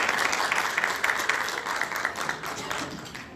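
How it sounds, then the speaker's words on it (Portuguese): An audience at a parliamentary launch event applauds the newly formed panel, with dense, lively clapping that starts strong and gradually thins and softens toward the end. "Uma salva de palmas também."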